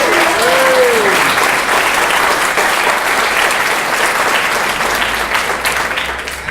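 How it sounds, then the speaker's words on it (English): A boxing press conference audience applauds for a boxer, a dense and steady wash of clapping from a large crowd that holds loud throughout and eases slightly toward the end, with a brief voice rising over it at the start. "So what about a round of applause for Anthony Fowler?"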